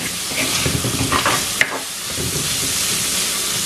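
Long beans curry for a Sri Lankan dish sizzles steadily in a hot pan while a utensil stirs through it, a loud continuous frying hiss with a few scraping strokes and one sharp clink, no voices.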